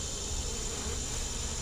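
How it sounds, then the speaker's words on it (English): A giant cicada killer wasp buzzes near a beehive, giving a faint, steady insect drone that holds unbroken through the short moment with no voices. "that's one of them giant cicada killers"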